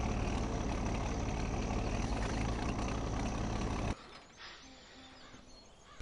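A heavy tractor engine in Farming Simulator 17 drones loudly and steadily for about four seconds, then cuts off abruptly, leaving quieter background sounds.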